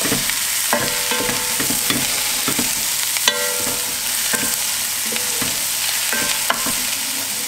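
Pork pieces browning in a hot pan for a pork roast with prunes give a steady loud sizzle, with repeated clicks and scrapes of stirring throughout and no talking.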